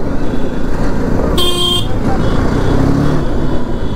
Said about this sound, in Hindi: बाइकर्स हैं, इतने सारे बाइक्स एक साथ जा रही